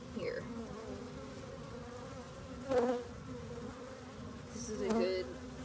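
Honey bees buzz around an open hive in a steady, faint drone, with a couple of louder passes as single bees fly close by.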